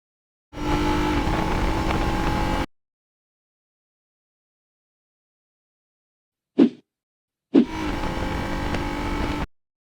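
A race car on a hot lap around a track roars loudly in two sustained engine bursts separated by several seconds of silence, with a brief sharp blip just before the second burst.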